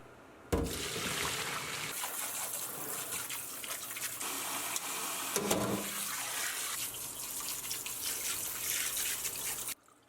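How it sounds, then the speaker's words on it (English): A pot rinsed out under a running kitchen tap, a steady gushing splash of water that starts abruptly, keeps going with shifting tone for about nine seconds, then stops cleanly. "I also rinse out my pot."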